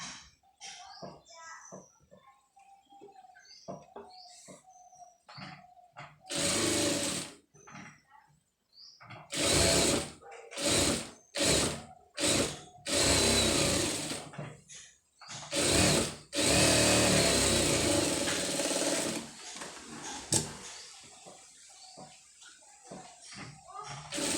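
A tailoring sewing machine stitches an embroidered blouse in repeated short bursts of mechanical whirring, some a second or two long, with pauses between; a person talks in the gaps and over the machine.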